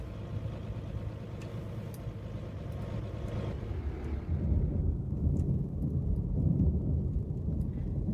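A thunderstorm rumbles in the Roblox storm-chasing game Twisted, with low rolling thunder and rain building under a deep, continuous engine-like roar that swells louder midway.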